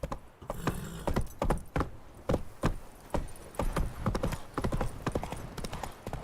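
Horse hooves clip-clop in a steady, close rhythm in the video game The Witcher 3, with a horse snort and faint background sounds.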